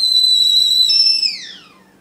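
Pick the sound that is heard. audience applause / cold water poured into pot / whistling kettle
whistling kettle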